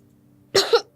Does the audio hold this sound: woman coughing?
yes